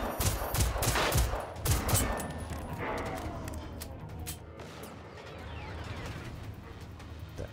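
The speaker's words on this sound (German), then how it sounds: "Da ist aber einer explodiert." Explosion and gunfire in the video game Generation Zero, set among killer machines in Sweden, with a loud barrage of rapid shots and blasts that thins out into scattered cracks and rumbling debris.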